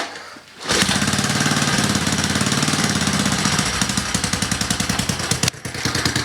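A cold Honda three-wheeler engine catches after a brief pause and then runs loud and close with a rough, rapid chugging idle that stumbles briefly near the end.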